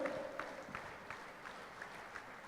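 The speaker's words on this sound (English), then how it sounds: "Please give a big round of applause" A standing ovation from the audience at the IOBOA 24th Triennial Conference, a continuous wash of many people clapping, fairly faint and distant, with faint voices and a brief tone at the start.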